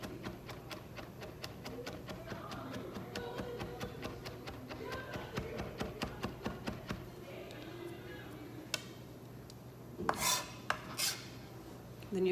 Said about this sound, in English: So be patient and keep mincing.